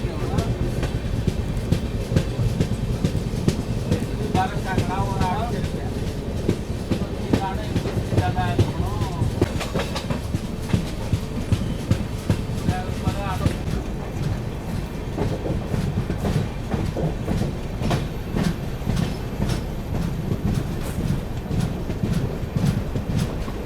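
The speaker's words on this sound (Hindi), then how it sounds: "चलो अभी धीरे धीरे अपनी ट्रेन निकल रही है हरतकी रेलवे स्टेशन से" Guwahati–Sairang Express pulling slowly out of Hartaki railway station on the scenic Mizoram route, a steady rumble of wheels and carriages with rhythmic clatter throughout, some voices heard over it.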